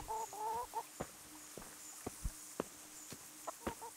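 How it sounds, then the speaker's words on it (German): Chickens cluck repeatedly in the medieval role-playing game Kingdom Come: Deliverance, a close bird with short bursts and sharp squawks scattered over a steady ambient background, with no talk. "Läufst du mir hinterher, du blödes Huhn?"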